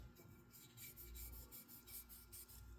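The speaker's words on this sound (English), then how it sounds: "I then take a clean Q-tip, and those dabs I then rub along" A Q-tip rubs grease along the inside of a firearm rail, making soft, steady, close rasping strokes at low volume with no speech.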